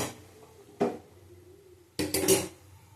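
A metal pot of khichuri is lifted off a kitchen stove, giving two short bursts of clanking cookware and utensil clatter against a quiet background, the second burst longer and busier.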